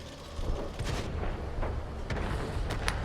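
A tank cannon fires in World of Tanks, with the M46A1 tank in a Cold War setting. Several heavy booms come over a constant loud engine and battle rumble, with no voices.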